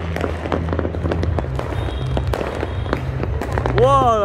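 Dense rapid crackling and popping of Lunar New Year's Eve fireworks for the Year of the Dragon 2024, loud and continuous, with a rising whistle near the end and voices reacting amid the bursts.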